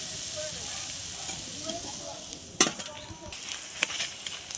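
Oil sizzles and crackles steadily as hélencha-leaf fritters fry, with a couple of sharp utensil clinks and stirring sounds near the end.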